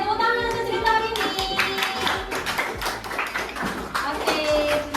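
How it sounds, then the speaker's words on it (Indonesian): Children in a classroom clap after a story about Caliph Umar. The clapping is loud and uneven, mixed with tapping and overlapping noise, and voices and chatter run underneath. "tepuk tangan untuk cerita hari ini"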